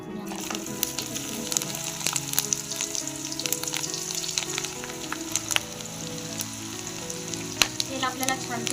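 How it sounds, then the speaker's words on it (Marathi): Masala-coated okra frying in hot oil in a kadai gives a steady, dense sizzle with scattered crackles and pops, close and fairly loud, running continuously with no talk over it. "आता आपण या भेंड्याला तेलात फ्राय करून घेऊया"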